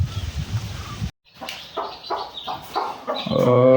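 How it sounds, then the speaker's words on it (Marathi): A hen clucks nearby in a series of short, rhythmic calls, rising into a louder drawn-out cackle at the end. "तुम्ही बघताय समोर ती आपण काल आणलेली कोंबडी आहे"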